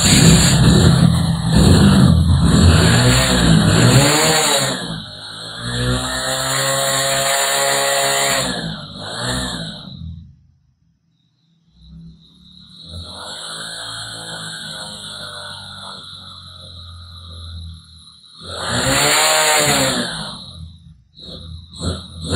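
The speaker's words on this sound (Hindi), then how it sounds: "अभी गाड़ी को स्टार्ट करके देखते हैं फिर से" A Hero Splendor motorcycle with only 136 km on it after three years is started and runs, its engine revving loudly in bursts with a sharp, buzzing drone, pausing briefly before rising again.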